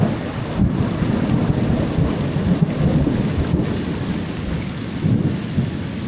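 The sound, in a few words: heavy rain and thunderstorm in the forest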